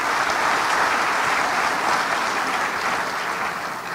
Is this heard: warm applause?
yes